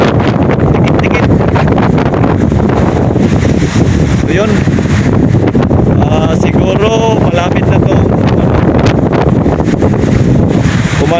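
Strong typhoon wind roars steadily against the microphone with crashing waves beneath, a continuous loud rush filling the whole stretch while someone talks over it.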